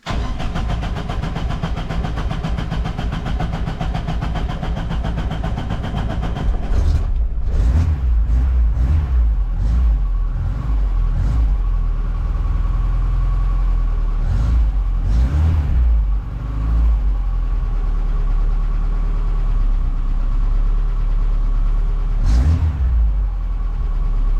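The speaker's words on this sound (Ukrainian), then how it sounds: "Машина зараз без підсоса, тому не знаю, як вона запуститься." A VAZ 2109 car engine running without the choke idles roughly up close, then revs in several sharp bursts with a dropping idle between them, and no talking.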